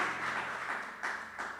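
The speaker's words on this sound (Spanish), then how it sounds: "Denle un fuerte aplauso al Señor, por favor." Congregation clapping and cheering during a Spanish-language church service: a steady wash of many hands in a large room, with a couple of louder surges near the end and no clear speech.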